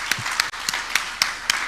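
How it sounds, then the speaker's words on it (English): Six sharp, evenly spaced claps ring out in a steady rhythm, close and fairly loud, from participants at a gathering, with no talking over them. "Give yourselves a round of applause."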